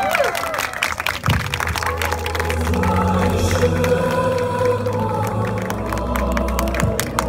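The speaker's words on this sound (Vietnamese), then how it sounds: "Một tràng pháo tay lớn hơn nữa." Wedding guests applauding and cheering after a marriage proposal, loud sustained crowd clapping with voices mixed in throughout.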